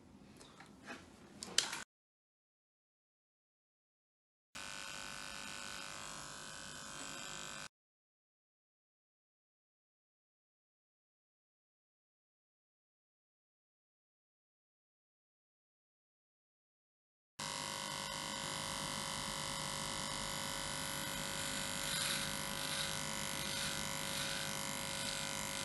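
An electric hair clipper shaving the sides of a head, a steady buzzing drone in three separate bursts: a short one, then about three seconds, then a long continuous run.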